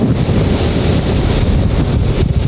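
Wind and water rush steadily past a yacht underway on a city waterway, a constant close broadband wash with no voices.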